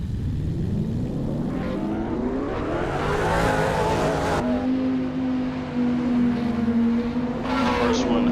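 GT2 race car engine in a sim racing game at Mugello, revving and climbing steadily through the gears, then dropping to a sustained high drone, loud and close with a voice talking over it.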